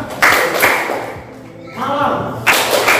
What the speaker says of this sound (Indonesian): siang, kalian tepuk dua kali ya